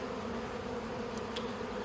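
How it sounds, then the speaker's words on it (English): Honey bees buzz around beehives during an oxalic acid vapour treatment for Varroa, a steady, moderately close drone that holds without a break. "There's a cloud of bees over there."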